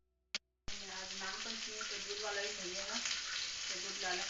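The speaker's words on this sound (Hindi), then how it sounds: "ऐसे ही पतला पतला काट के भून देते हैं" Thin brinjal slices hit a hot pan and fry with a steady, close sizzle after a brief click, crackling continuously with no voices.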